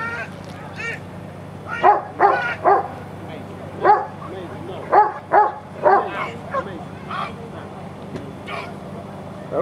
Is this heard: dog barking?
yes